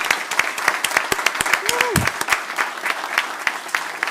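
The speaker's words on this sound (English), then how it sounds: "can we give one more round of applause for our teachers, please?" An audience at a city council meeting claps loudly and continuously for teachers, with distinct sharp claps standing out and a brief voice or whistle rising in the middle.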